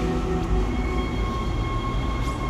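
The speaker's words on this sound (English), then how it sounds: "Ishimura tram system." A tram in the video game Dead Space, on the Ishimura tram system, rumbles in with heavy low rolling noise, metallic tonal whines and faint squeals, steady and loud throughout.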